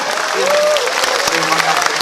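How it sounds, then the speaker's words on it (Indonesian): A crowd at an Indonesian religious lecture claps briefly and densely, with a voice speaking over the applause throughout. "Tepuk tangannya."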